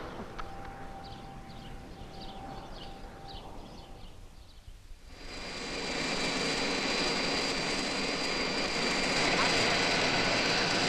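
Airplane engine noise that swells in midway through and settles into a loud, steady jet roar and whine; a voice and faint tones are heard before it.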